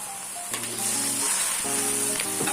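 Eggplant stir-frying in a hot pan, a steady bright sizzle with intermittent scraping and clinks of the utensil against the pan, close and alone.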